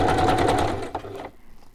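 Sewing machine stitching down the center of a piece, a short burst of rapid mechanical chatter up close that slows and stops after about a second, followed by quiet.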